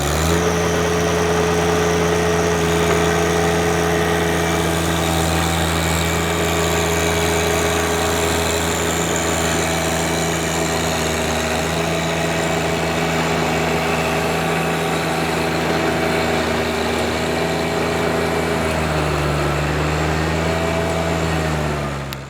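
A garden tractor fitted with a tiller runs at a steady idle, its engine holding a constant, loud, even drone for the whole stretch, with a slight dip in pitch near the end.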